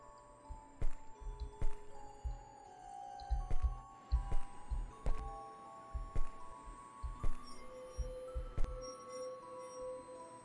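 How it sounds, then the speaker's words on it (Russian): Soft crystalline chimes in the game Gray Dawn ring out in a slow, irregular sequence of about eight struck tones, each a bright tinkling hit with a sustained ringing tail, heard alone over a low ambient drone. "Звук издает кристалл."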